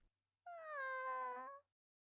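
Injured cat meowing in the video game Dandelion Sky, a single clear, drawn-out meow of about one second, close and alone in otherwise near silence.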